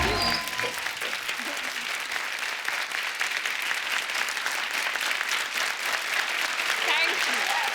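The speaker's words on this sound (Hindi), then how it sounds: "दीपिका के लिए एक बार जोरदार तालियां" Sustained audience applause for Deepika from a large crowd at a live show, dense and steady throughout, loud and close, with no talk over it.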